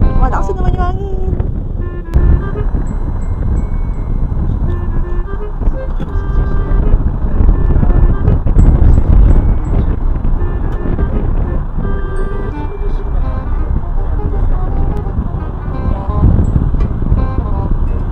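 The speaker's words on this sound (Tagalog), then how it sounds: "Malakas naman yung hangin." Strong wind on a ferry ride in Brisbane buffets the microphone continuously with a loud, rough roar, while an engine hum and faint voices sit underneath.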